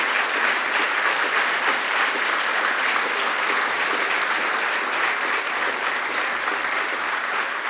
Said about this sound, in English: can we give Jim Durrett a rousing round of applause